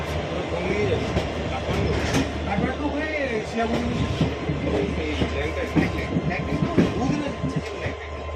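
The Howrah–Raxaul Express, train 13042, running at night in a third AC coach: a steady, close rolling rumble with faint rhythmic clatter all through, and indistinct voices murmuring beneath it.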